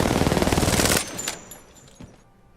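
An R99 submachine gun in Apex Legends fires one rapid, continuous burst of about a second, then fades into a brief echoing tail with a last faint shot.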